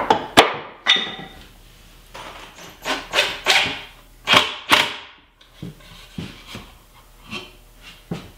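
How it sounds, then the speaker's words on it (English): A nail gun that is acting up fires while a cabinet is assembled, giving a string of sharp, loud impacts. The shots come at uneven intervals, some in quick bursts and some spread apart. No one speaks. "You can tell my nail gun is starting to act up."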